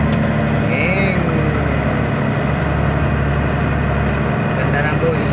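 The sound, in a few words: fishing boat engine running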